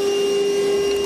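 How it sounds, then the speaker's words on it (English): Vacuum cleaner sucking up metal shavings from a cut hole, a steady, loud whine with a constant tone, heard alone and close. "Now we can vacuum up all of our metal shavings."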